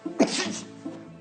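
A single sharp sneeze bursts out close by, followed by a brief trailing exhale and a faint voiced sound.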